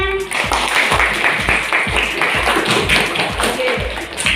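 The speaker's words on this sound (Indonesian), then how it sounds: "Tepuk tangan semuanya." Classroom children clap in a quick, regular rhythm, many small hands striking together in unison, loud and near, with faint voices underneath.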